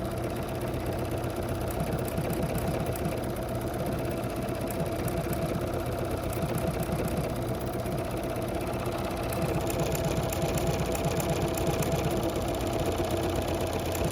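A Bernina 990 sewing machine stitches fabric with a low, steady motor hum and fast, even mechanical pulsing, close and quiet throughout, with no voices.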